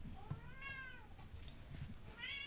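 A cat meows a few times, drawn-out rising calls separated by short pauses, heard at moderate distance over faint background noise.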